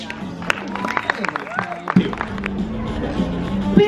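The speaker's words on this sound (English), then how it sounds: "Big round of applause for Colin." An audience at a live magic show bursts into clapping and cheering after a trick, a busy crowd roar with scattered claps building under overlapping voices.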